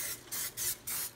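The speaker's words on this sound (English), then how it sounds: "just some nonstick spray" Nonstick cooking spray hissing onto paper in a pan, three short bursts in quick succession, close and clear with no talking.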